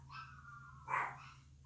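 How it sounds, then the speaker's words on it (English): Dogs bark in one short burst partway through, moderately loud over a steady low hum, then fade back. "oh, the dogs are excited about something"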